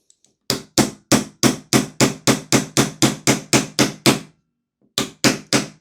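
Sharp, even hammer taps drive a pin into a Tokyo Marui USP gas blowback pistol frame, about a dozen rapid strikes in a row, then a short pause and three more, close and loud.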